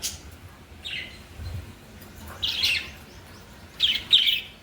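A parrot gives a few sharp, high chirps in short bursts, separated by quiet pauses.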